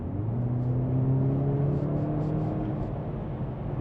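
A Mercedes-AMG C63 S E Performance estate's engine firing up on kickdown after electric driving, a low rising rumble and whir heard from inside the car, with faint intermittent higher tones above.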